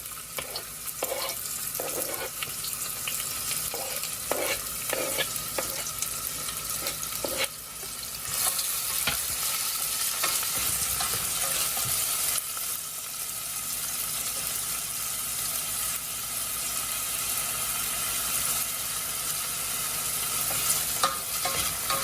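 Onion frying in hot oil for spicy fried black-eyed peas, a constant bright sizzle with bursts of clattering stirs early on, then a denser steady hiss, near and fairly loud with no talking.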